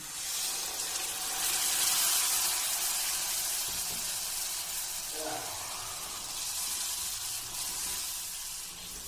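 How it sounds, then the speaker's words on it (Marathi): Water hits a hot pan of spinach curry with palak vadi, setting off a broad, steady sizzle and hiss that swells and then settles into a softer simmer. "नंतर टाकूयात थोडं पाणी"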